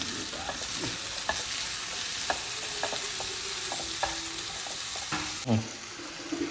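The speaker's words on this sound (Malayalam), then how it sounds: "നമ്മളെ പൊടിച്ച് വെച്ച ചെമ്മീൻ ഇതിട്ട് കൊടുക്കണം കേട്ടോ. ഇതൊക്കെ നല്ലോണം മിക്സ് ചെയ്യുക." Ground prawns being stirred and mixed into a sizzling pan mixture, a spoon scraping in irregular strokes with a few sharper knocks against the pan over a steady frying hiss, close and fairly quiet, no voices.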